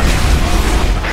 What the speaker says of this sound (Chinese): 居然一把火箭筒炸不死啊